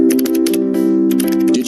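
Rapid keystrokes clatter on office computer keyboards in quick, uneven bursts with a brief pause, played loud and close against a steady tonal hum.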